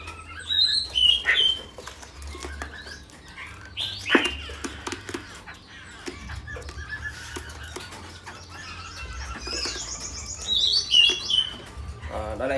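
A caged laughingthrush sings in scattered bursts of bright chirps and whistled phrases, separated by pauses and quieter clicks, loud and close.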